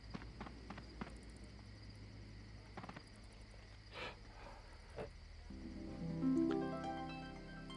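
Horse hooves clip-clopping in the online role-playing game Dark Age of Camelot, soft steady steps under ambient game tones and faint chirping, followed by a rising musical chime.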